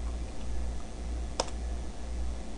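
A single sharp computer keyboard press, the Enter key in a terminal, clicks once midway through a quiet room with a low steady hum underneath.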